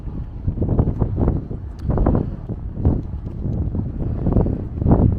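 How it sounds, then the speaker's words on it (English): Gusty wind buffets the microphone in low, rumbling surges that rise and fall steadily, with no voices, on the top deck of the cruise ship Odyssey of the Seas at sea. "It's windy."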